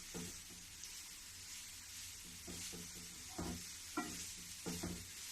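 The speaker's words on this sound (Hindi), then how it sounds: "अब ये घसा हुआ जो गाजर है इसी में डाल दूंगी। अब इसको मैं अच्छे से मिलाऊंगी।" Grated carrot being stirred into melted ghee in a pan on low gas, with soft sizzling and a series of scraping, clacking spoon strokes against the pan, close and fairly quiet.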